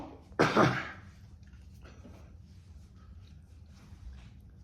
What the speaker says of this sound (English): Just blowing my nose.